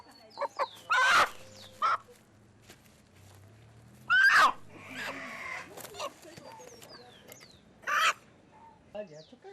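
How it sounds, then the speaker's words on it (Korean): A chicken squawks in several loud, sharp bursts as it is grabbed in a remote village near the Uyuni salt flat in Bolivia, with quieter rustling and ambient noise between the outbursts. "닭 한 마리를 잡아든 타티아나의 할머니."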